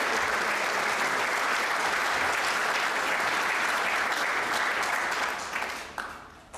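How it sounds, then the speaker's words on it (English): An audience at a Safe Streets community awards gathering claps warmly and continuously, a dense sustained applause that tapers off near the end. "Real round of applause should be for her."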